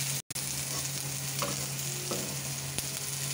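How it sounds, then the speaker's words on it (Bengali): Fried potatoes with onion and green chilies being stirred in a pan, a steady loud sizzle with a few scraping stirs and a brief gap near the start, no talk. "তো একটু পেঁয়াজ আর 2টো কাঁচা লঙ্কা দিয়ে দিলাম ফেলি, একটু নাড়াচাড়া করে নামিয়ে নেবো"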